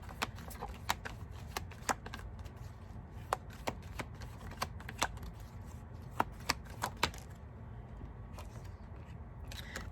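Oracle cards are shuffled and pulled by hand, a faint, quiet run of crisp riffling snaps and flicks at irregular intervals over a soft background hiss, with no talking.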